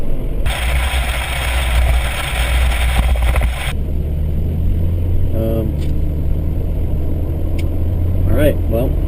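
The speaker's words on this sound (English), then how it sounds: "Two DEP trucks going the other way." Two DEP trucks pass by going the opposite direction, a loud broadband roar that swells and then cuts off, leaving a steady low engine hum with a voice talking briefly near the end.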